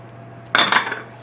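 Metal whisk clinking quickly against a bowl as an egg is beaten into sugar for brownie batter, a short burst of scraping taps lasting under a second, close and fairly loud.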